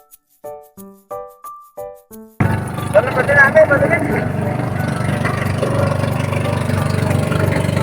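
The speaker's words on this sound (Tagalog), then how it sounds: "ang bilis guys ng motor" After a short melodic tone sequence, a motorboat engine roars in and runs steadily at close range, loud and continuous.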